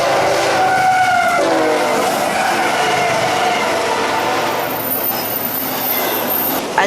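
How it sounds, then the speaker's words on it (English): A westbound intermodal freight train sounds its horn in a salute at a grade crossing on a sunny day, the loud sustained blasts ringing over the heavy roar and rumble of the passing train. "here is a westbound intermodal with a cool crew giving us a horn salute"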